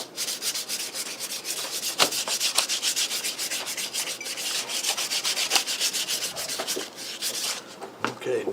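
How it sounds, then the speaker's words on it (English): Hand sanding along a wooden edge, a steady rapid back-and-forth rasp of abrasive on wood that goes on for several seconds, close and moderately loud, with a few faint knocks and no talking. "it really could use a little bit of sanding"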